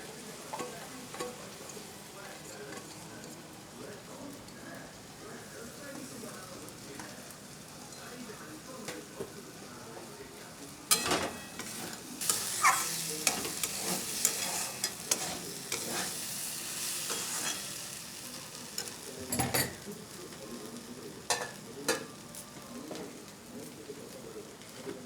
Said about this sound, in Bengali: এবার আমি ভালো করে মশলার সাথে চাল আর ডালটা কষিয়ে নেব